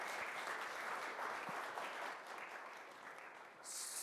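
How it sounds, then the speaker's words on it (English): Steady, continuous applause from a conference audience after a product marketing talk on demos, fairly quiet and even, easing slightly before swelling again at the end. "let's give Jen a round of applause"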